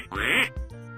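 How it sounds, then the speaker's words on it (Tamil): A duck quacks once loudly and nasally up close, followed by a softer second call, with no talk over it. "வாத்து எப்படி கத்தும்?"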